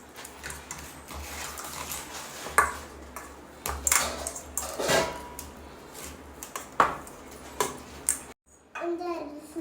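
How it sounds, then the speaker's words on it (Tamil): Chicken 65 marinade with lemon being mixed in a bowl by a child in a home kitchen: light metallic clinks and scraping strokes come at irregular intervals, a voice is heard, and the sound cuts off abruptly near the end. "இப்போ மிக்ஸ் பண்ணிக்கலாம்."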